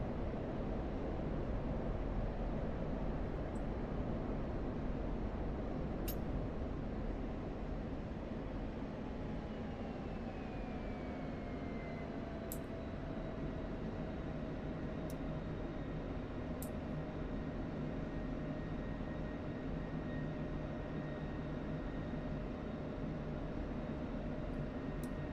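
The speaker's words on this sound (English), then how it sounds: "I haven't really been flying the F-16." Continuous roar of an F-16 fighter jet engine in flight within the DCS World simulator, a steady broadband rumble with faint tonal whines shifting slowly, unbroken and without speech.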